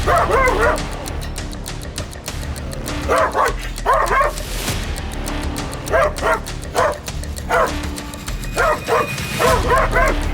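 An aggressive Zerdava dog barks repeatedly in short clustered bursts, loud and close, with whiny yips between and steady background noise throughout.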